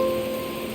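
Rain falls in the Tower of Fantasy video game as a steady, moderately loud patter with a faint tonal hum behind it, brief and without speech.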